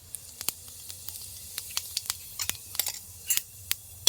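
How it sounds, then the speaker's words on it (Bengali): Half a spoon of whole cumin seeds dropped into leftover hot oil, crackling in sharp scattered pops and brief sizzles over a quiet low background. "এখানে দিয়ে দিচ্ছি হাফ চামচ গোটা জিরে"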